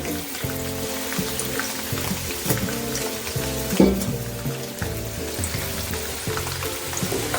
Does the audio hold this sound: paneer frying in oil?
yes